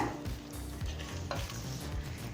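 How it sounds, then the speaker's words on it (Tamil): Onion sautéing in a pan for Ambur chicken biryani, a steady soft sizzle under repeated scraping strokes of a stirring spoon, heard up close at low volume with no voices. "வெங்காயம் சேர்த்துட்டு நல்லா வதக்கிக்கலாம்."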